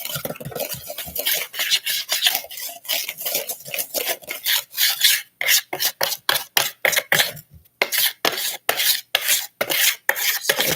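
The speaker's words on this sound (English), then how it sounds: "Scraping down the sides." A spatula scrapes down the sides of a container of coconut lime soap batter with activated charcoal, making repeated short rasping strokes in a steady rhythm, close and fairly loud, with no talking.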